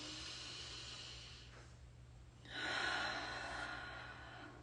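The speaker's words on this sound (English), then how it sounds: "take a deep breath" A slow, airy deep breath close to the microphone, a soft inhale swelling into a fuller breathy rush over a steady low hum.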